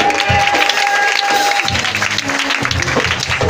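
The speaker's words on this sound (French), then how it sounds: "Est-ce que tu peux acclamer ton Dieu?" A church congregation applauds God, with loud, dense clapping filling the room and a few voices mixed into the crowd noise.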